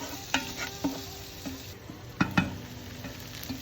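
Onions being stirred in a hot pan for braised short ribs, with a steady background sizzle broken by several sharp scraping and clattering strokes of the utensil, close and fairly loud.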